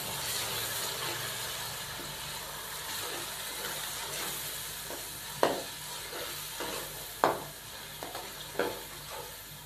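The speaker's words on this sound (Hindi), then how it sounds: "अब हम मसाले को 3 से 4 मिनट अच्छे तरीके से भून लेंगे" Masala of tomatoes, yogurt and spices sautéing for matar pulao in a pan, a steady close sizzle with occasional sharp stirring knocks and scrapes, no voices.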